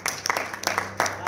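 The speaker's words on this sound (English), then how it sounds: "Give the Lord a hand clap of praise in this place." A church congregation claps hands in praise during a Sunday worship service, with a few loose, uneven bursts of clapping over a short stretch.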